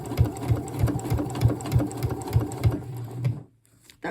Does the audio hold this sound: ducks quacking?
no